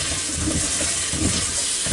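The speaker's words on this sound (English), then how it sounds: "So, we'll rinse these off real good." Potatoes rinsed under running tap water produce a steady, close hiss and splash, full and unbroken throughout, with faint tumbling of the potatoes beneath.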